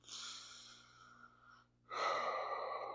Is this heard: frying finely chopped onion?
no